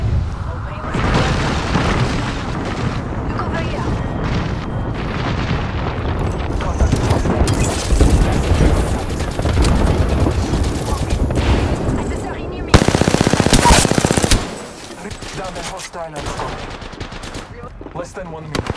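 Energy-ammo weapons fire in a battle royale video game, dense rapid bursts of loud automatic gunfire and booms running almost continuously, with a voice talking over the shooting.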